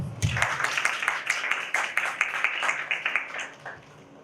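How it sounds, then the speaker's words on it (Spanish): Students at an academic electoral forum clap in scattered, moderate applause, a run of distinct slaps of mixed rhythm in a room that thins out toward the end. "Un aplauso."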